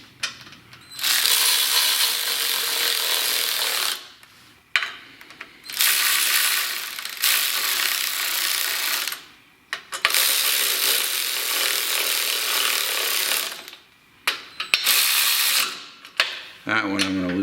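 A hand ratchet works loose the cylinder head bolts on a Kohler K301 engine in a series of close, loud, rapid clicking runs, each a few seconds long and separated by brief pauses, heard alone without talk.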